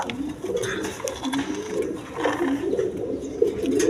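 A male Rasgolla pigeon coos close by on a farm, giving a steady run of soft, rolling low coos that repeat over a faint background hum.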